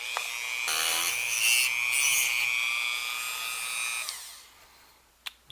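A small Dremel cutoff wheel whines at high pitch as it cuts through a terminal strip for an amplifier power supply, a steady close grinding lasting about four seconds before spinning down.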